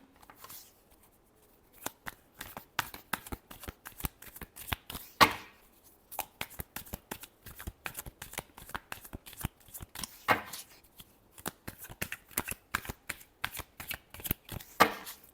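Tarot cards being shuffled by hand, a dense run of crisp, rapid riffling bursts close up, with short pauses between shuffles and no talking.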